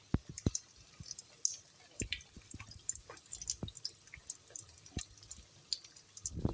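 Date pitha frying in hot oil, a scattered run of sharp pops and crackles over a low sizzling bed, with sporadic louder spits throughout.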